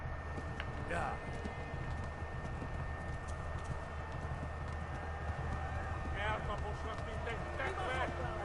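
A horse in the medieval video game Kingdom Come: Deliverance gallops with a steady, rhythmic clip-clop of hooves, with a couple of brief snorts or whinnies, while someone talks over the gameplay.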